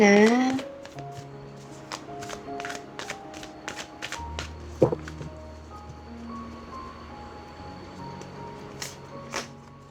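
Oracle tarot cards are shuffled close up in a series of crisp riffling and tapping bursts, irregular and quick, against a faint background with sustained electronic tones.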